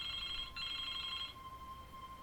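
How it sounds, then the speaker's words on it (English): Telephone bell ringing in the video game Broken Sword 2, a steady electronic trill that rings for about a second, breaks briefly, then rings again and stops, loud and alone. "Excuse me, the telephone."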